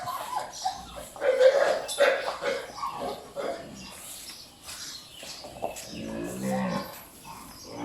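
Brahman cows on a cattle farm during an overnight calving watch give several low, drawn-out moos, with background chatter and occasional other farm sounds mixed in.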